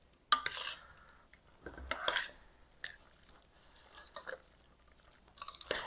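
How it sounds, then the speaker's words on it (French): Pasta stirred together with sauce in a saucepan, giving soft scraping and clinking of a utensil against the pan in irregular bursts, close and fairly quiet with no talking. "Je vais mélanger directement les pâtes et la sauce dans la casserole pour éviter trop de vaisselle."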